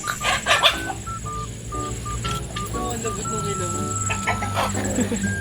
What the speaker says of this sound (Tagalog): Sky, tingnan mo may manok.